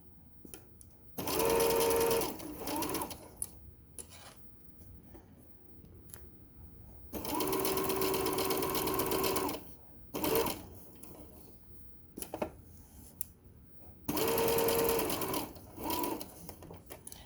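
Sewing machine stitching a tote bag, running in three steady bursts of rapid mechanical whirring, each a few seconds long, with quieter handling sounds in the gaps.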